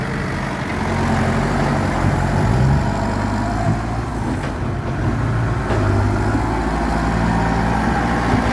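A heavy diesel engine of a long-reach excavator runs steadily nearby, a low continuous rumble with slight rises and dips in intensity.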